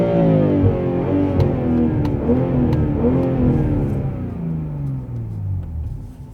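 A BMW M340i in Sport Plus mode revs hard while standing still, its engine and exhaust climbing toward 7000 rpm. A loud, close, raspy roar swells, dips and rises again with sharp exhaust crackles and no voices.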